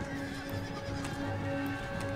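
Cavalry horses charge in an Empire Total War battle, with steady galloping hoofbeats and a whinny rising out of a dense, continuous battlefield din at moderate volume.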